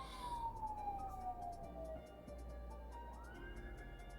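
A siren wails in a descending sweep, faint and distant, then rises again under a low background hum.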